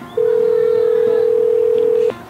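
A steady, loud electronic dial tone on a phone call in a video game, starting abruptly and holding an unbroken pitch for about two seconds before cutting off, with faint background sound.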